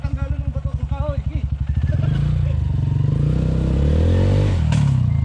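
A dirt bike, a KLX150S or CRF150L, on a rocky trail: the engine pops and revs in quick pulses, then settles into a loud, steady drone as it climbs, with a scrape or clatter near the end. Riders talk over it.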